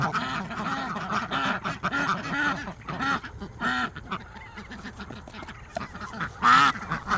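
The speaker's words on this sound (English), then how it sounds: "Ducks can find it, too." A group of ducks on a homestead quack in loud, repeated bursts close by, with honking calls mixed in and a few quieter pauses between them.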